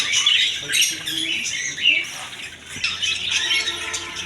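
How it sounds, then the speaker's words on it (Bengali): Many caged birds squawk and chirp together in a pet bird and aquarium shop, a busy, overlapping chorus, shrill calls rising and falling close by. "দেখো পেয়ে যাবেন অসংখ্য পাখি"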